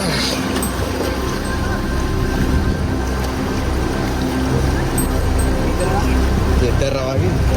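Ocean waves break and wash against the shore at Galle Fort, a loud, steady surf roar with wind noise running throughout.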